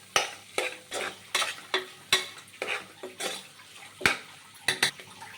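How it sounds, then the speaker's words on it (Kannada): Ginger garlic paste fries in a pan for pulao while a spatula scrapes and knocks against the metal in about a dozen rhythmic strokes over a steady crackling sizzle, close and clear. "ಇದಕ್ಕೆ ಸ್ವಲ್ಪ ಶುಂಠಿ ಬೆಳ್ಳುಳ್ಳಿ ಪೇಸ್ಟ್ ಹಾಕೊಳ್ಳೋಣ ಹಸಿ ವಾಸನೆ ಹೋಗ್ಬೇಕಂದ್ರೆ ಫ್ರೈ ಆಗಬೇಕು"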